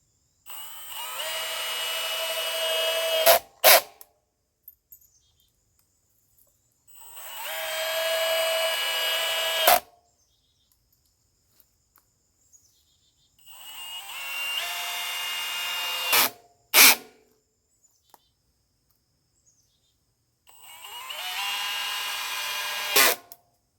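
A power drill drives wood screws into 2x4 boards outdoors in four separate bursts, each a loud rising whine lasting a few seconds and ending with sharp clacks, with silent pauses between them.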